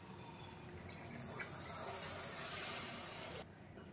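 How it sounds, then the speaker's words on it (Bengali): Milk pours into a pan of paneer gravy in a steady, hissing gush that swells slightly, then cuts off abruptly near the end. "এবারে একটু গ্রেভি করব পনিরটা, সেই জন্য দিয়ে দিচ্ছি একটু দুধ দিয়ে দেব।"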